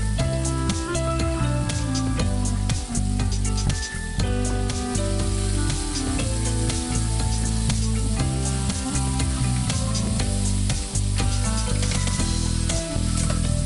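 Garlic and then onion fry in a pan on a strong stove for tacos, giving a loud, continuous close sizzle with stirring scrapes throughout and no talk.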